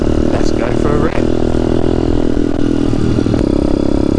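A stock Demon X 170 Detroit motorcycle with aftermarket handlebars being ridden on a calm sunny day, its engine droning loud and steady with a wavering pitch and some wind rush, riding continuously throughout.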